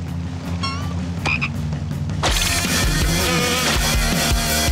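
A cartoon frog croaks in a Kick Buttowski episode, with a few short chirpy calls early on before a dense, loud chorus of croaking and busy scene sounds takes over.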